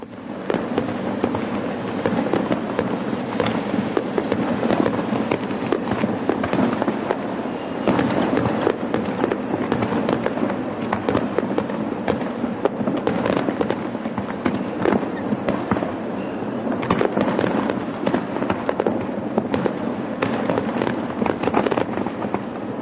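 A dense, continuous barrage of fireworks crackles and bangs for over twenty seconds, with rapid overlapping pops and louder booms at a steady, intense level.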